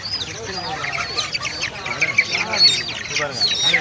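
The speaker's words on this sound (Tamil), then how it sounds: "இது சேவல்" Chickens clucking and a rooster calling amid a busy market in Pallavaram, Chennai, with people talking nearby throughout.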